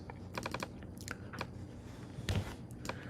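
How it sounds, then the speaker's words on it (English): Quiet, rapid clicking of a computer keyboard as text is typed in, with irregular bursts of keystrokes and short pauses, close and soft with no talking. "We're actually typing our text in."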